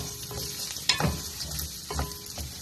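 Onions sizzling and frying in a pan as they are stirred while cooking banana heart, a steady soft crackle with a few louder scrapes and stirring strokes.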